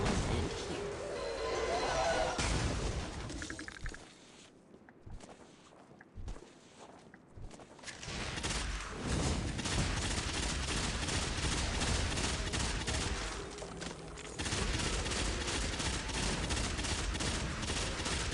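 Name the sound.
Bad Juju weapon firing in video game Destiny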